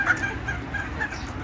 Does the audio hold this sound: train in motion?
no